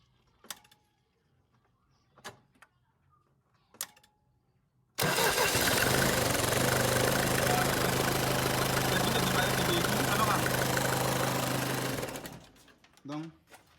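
A Mercedes-Benz C220 engine cranks and catches, then idles loudly and steadily for about seven seconds before being shut off, with a few faint clicks before the start.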